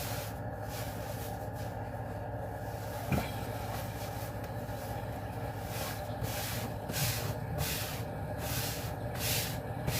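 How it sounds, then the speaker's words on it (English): A spray can hisses in short bursts indoors while aprons are being made, the steady spray rising and falling over a constant room noise in the second half. "I'm done spraying."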